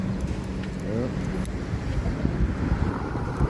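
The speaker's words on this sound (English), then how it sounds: "it's windy as fuck" Outdoors on a windy walk in Waikiki, Hawaii, gusty wind buffets the microphone with low rumbling noise throughout, while muffled voices and background traffic come through underneath.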